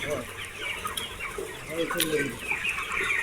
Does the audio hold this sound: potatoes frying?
no